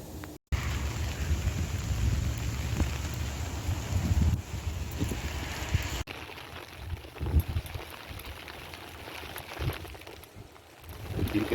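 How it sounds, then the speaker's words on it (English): Rain falling outdoors in metro Phoenix during a walk: a steady, broad hiss of rainfall with rumbling wind noise on the microphone, continuous and fairly close, no talk. "It is raining."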